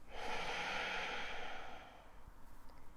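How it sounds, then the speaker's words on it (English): One long, slow Ujjayi breath drawn at the back of the throat, a close, breathy rumble with a hissing rasp that swells and then fades away; no talking. "We're going to use that Ujjayi breath to guide us"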